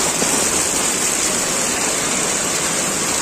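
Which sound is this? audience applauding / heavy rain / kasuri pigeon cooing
heavy rain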